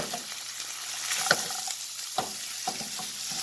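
Butter melts and sizzles in a pan with fish over medium heat, a quiet steady frying hiss with a few soft pops and spatters, heard alone.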